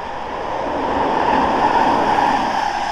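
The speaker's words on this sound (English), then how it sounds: "excuse the tram there" A tram passes beside the River Mersey in Stretford, a steady, fairly loud rumble of rail wheels and motor that swells slightly mid-pass and holds throughout, with no voices.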